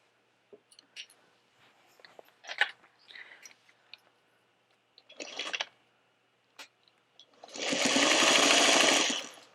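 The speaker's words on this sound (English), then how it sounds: "we're just going to edge stitch all the way around this entire bag" Sewing machine edge stitching around a fabric trick-or-treat bag, with scattered handling clicks and rustles before a steady, close whirring run near the end.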